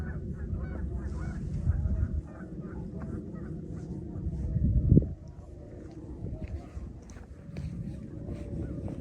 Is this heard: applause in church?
no